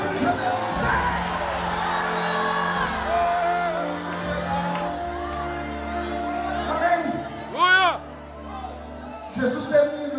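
A church congregation at an evangelical service shouts together in a loud, sustained crowd roar, with scattered whoops and yells rising near the end, under a steady hum of voices.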